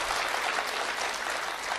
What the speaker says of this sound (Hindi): तालियां आप लोग कमजोर बजा रहे हैं,